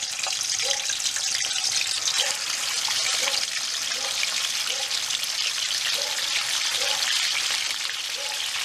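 Meat frying in hot cooking oil, a dense, steady, bright crackle and hiss with faint repeated pops, loud and close throughout, no talking.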